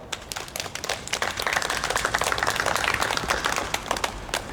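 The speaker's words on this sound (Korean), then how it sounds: "우리 다 함께 박수 보냅시다" At a church prayer meeting, an audience claps together. Scattered claps quickly swell into steady, moderately loud applause that carries on evenly for several seconds.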